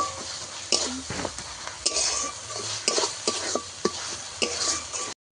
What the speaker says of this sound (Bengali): 1 চামচ জিরে বাটাটা দিয়েও আমি মশলা আরেকটু কষিয়ে নেব